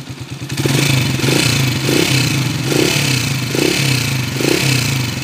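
A Kawasaki TMX155 motorcycle engine awaiting overhaul runs close and loud with a rough, clattering idle from a noisy timing gear, rising in several rhythmic revs.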